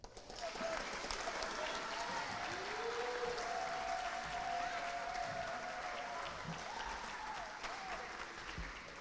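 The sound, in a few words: applause for award winners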